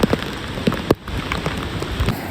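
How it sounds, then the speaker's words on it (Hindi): Heavy rain pours steadily on a forest walk in Coorg, India, a dense wash of hissing drops with a few sharper splats standing out, and no voices. "इन रास्तों में बहुत बारिश हो रही है"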